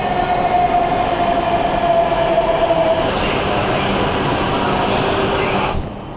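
A high-speed Shinkansen bullet train bound for Tokyo pulls into a station with a loud, steady rumbling roar, a thin wheel whine fading partway through, close by, and the noise easing slightly at the end.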